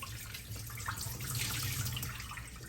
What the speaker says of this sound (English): I'm going to go ahead and pour this water out.